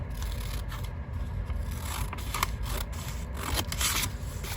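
Scissors snipping excess paper for a junk journal pocket, a series of short crisp cuts with small scraping sounds between them, close and clear with no talking.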